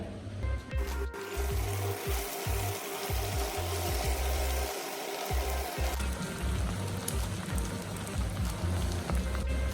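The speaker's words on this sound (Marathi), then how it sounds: "आपलं तेल गरम झालेलं आहे आपण आता वडे तळून घेऊ पण मिडियम गॅसवर तळायचे आहे" Sabudana vadas deep-frying in hot oil over a medium gas flame give off a steady, dense crackling sizzle throughout, close and continuous, with no talk.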